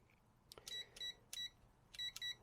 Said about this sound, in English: This one beeps every time.